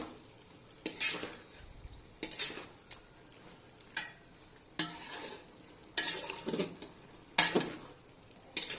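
Vegetables are sautéed in a pan with a spatula, producing a soft sizzle beneath repeated scraping strokes that come in short bursts every second or so, close by and with no talking.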